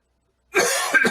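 One harsh, close cough bursts out after a brief silence, followed by a short throaty catch.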